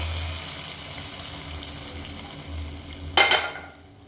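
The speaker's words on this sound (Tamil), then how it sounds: "இப்போ முந்திரி கிஸ்மிஸ் பழம் தாளிச்சு எடுத்துக்கலாம்" Cashews and raisins frying for payasam in a pan give a steady, close sizzle, broken near the end by a short clatter of stirring.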